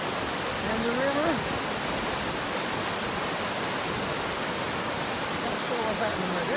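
Steady broadband rush of a river flowing beneath a train bridge in the rain, a constant wash of water noise holding level throughout, with faint voices briefly audible near the start and end.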